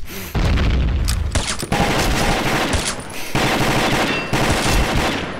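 A barrel explodes amid rapid gunfire in the shooter game Combat Arms, with heavy booming bursts and rattling shots arriving in several loud, dense blasts separated by brief gaps.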